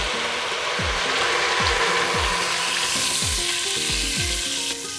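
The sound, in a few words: water poured into sizzling fried masala for fish kofta curry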